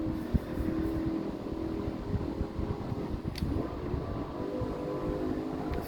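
Ford Falcon GT, an EA EB 25th Anniversary model, pulling hard in fifth gear on a racetrack, with a loud continuous engine roar and heavy buffeting drone throughout, close and steady.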